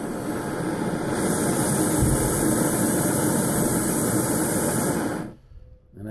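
A BRS-3000T titanium backpacking gas burner runs with a steady, loud hiss and roar for about five seconds, then cuts off abruptly into near quiet.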